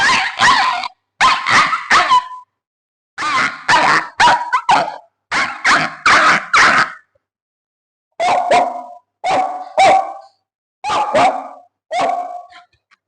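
A voice imitates a newborn puppy crying frantically for its missing mother, giving a string of high yelps and whimpering barks in several bursts, loud and close with short pauses between them.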